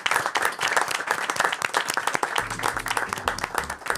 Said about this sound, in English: So a big round of applause for those organizations.